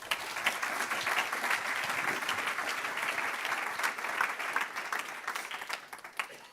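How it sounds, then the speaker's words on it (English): Conference audience applause fills the room, a steady mass of many hands clapping at moderate distance that holds for several seconds and thins out near the end. "A big round of applause."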